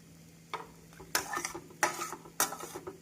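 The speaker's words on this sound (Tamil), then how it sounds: "நாம் நன்றாக கிளறி விட வேண்டும்." A spoon scrapes and clatters against a pan while orange kesari is stirred, giving several distinct scraping strokes over a low, steady background hum, with no voices.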